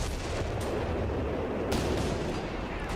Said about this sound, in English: We got mortar half tracks.